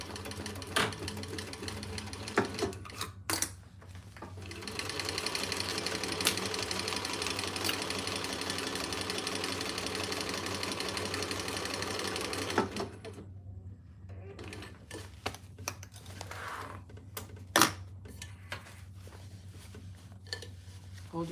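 A sewing machine stitches down the sides and across the bottom of a fabric divided basket, running in one steady, moderately loud whir after some scattered handling knocks, then stopping to quieter clicks and taps.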